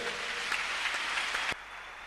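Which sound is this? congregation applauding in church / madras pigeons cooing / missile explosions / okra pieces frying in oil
congregation applauding in church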